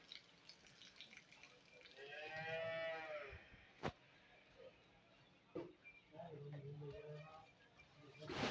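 A Friesian Cholistani cross cow moos once, a drawn-out mid-distance call, among a livestock setting with a sharp knock and soft background voices talking nearby.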